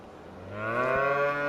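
A milk cow in the video game Farming Simulator 25 gives one long, clear moo that swells louder and rises in tone as it goes, with nothing else sounding around it.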